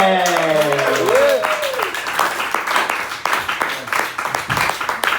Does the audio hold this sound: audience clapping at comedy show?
yes